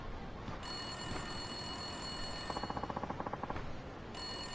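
A phone booth telephone in the video game Yakuza 5 rings with a rapid mechanical bell trill in one clear burst midway, set over a steady ambient game background.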